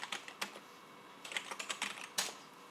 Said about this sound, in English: You hear my keyboard as I...